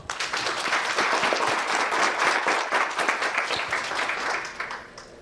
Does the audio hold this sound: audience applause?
yes